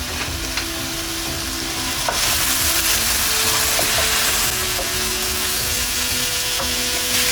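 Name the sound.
sausage frying while being broken up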